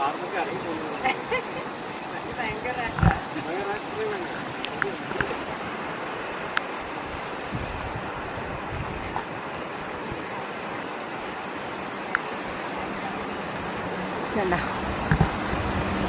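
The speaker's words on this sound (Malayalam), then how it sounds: "ഇവിടെ കുഞ്ഞി വെള്ളച്ചാട്ടം." A small waterfall in Vagamon, Idukki, Kerala, on a rainy morning gives a steady, even rushing hiss that stays level throughout, with people talking over it and a few faint knocks.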